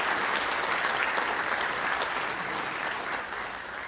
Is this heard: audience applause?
yes